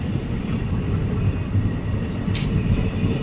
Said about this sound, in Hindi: तो फिलहाल हमारी ट्रेन निकल गई है सिसई से